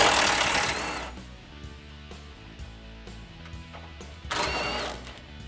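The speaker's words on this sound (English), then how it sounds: "Grab a 13 millimeter socket and remove those bolts." A 13 mm socket on a ratchet or power tool whirs in two bursts, at the start and near the end, as it removes bumper bolts from the support crossbar of a 2014-2015 Chevrolet Silverado, with a low hum and clicks between them.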